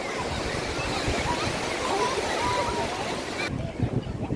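Waves washing in at Karaikal beach with people bathing, a continuous loud surf roar with splashing, and voices faintly in the background.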